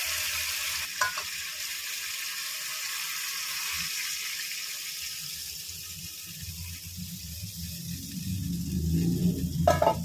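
Water poured onto hot spice masala fried in oil for a fish curry, giving a steady close sizzle and hiss that swells into a deeper bubbling rumble toward the end, with no talking.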